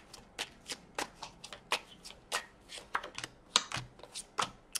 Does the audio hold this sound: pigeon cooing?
no